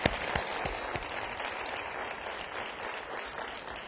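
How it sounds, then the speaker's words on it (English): Audience applause at a Xerox LGBT diversity conference, a steady dense round of clapping from a crowd that holds at an even level throughout. "I think that deserves one more round of applause"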